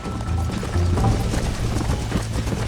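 A horse gallops in the Red Dead Redemption video game, rapid clip-clop hoofbeats in a steady driving rhythm, close and fairly loud, with creaking tack and a low musical drone underneath.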